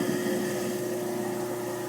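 An Insinkerator Badger 5 garbage disposal runs under a kitchen sink, a steady loud motor hum with a strong tonal drone and water noise, continuous and close with no talk.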